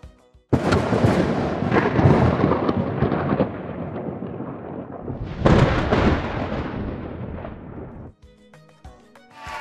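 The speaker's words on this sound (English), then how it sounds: "It's thunder!" Thunder breaks loudly and nearby in two long, deep rumbling peals, the second swelling after a lull, then fades into quiet.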